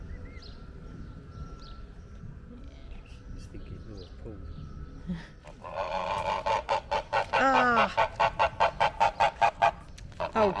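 Goose honking outdoors at a village nature park, a run of loud, rhythmic honks repeating close by, with people chatting in the background.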